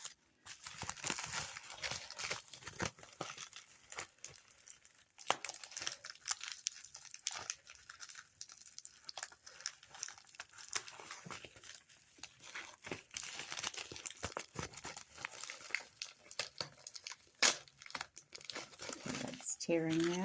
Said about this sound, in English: So let me see if I can unwrap this